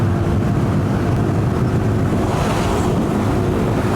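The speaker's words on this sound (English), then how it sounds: "This wind is so strong it feels like it wants to blow my helmet right off my head" Strong wind roars loud and steady across a rider's helmet on a KTM 390 Duke motorcycle at speed, a dense unbroken rush with low rumble and no pauses.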